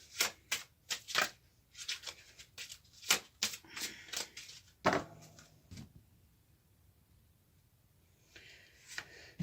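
A deck of oracle cards being shuffled and cut by hand, with a rapid series of crisp card riffles and slaps close by, a short pause, then a few softer card sounds, with no talking.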